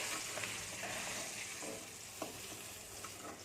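Steady oil sizzling fills the clip as eggplant fries, with a few soft scraping clicks from a utensil moving through the pan; no voices.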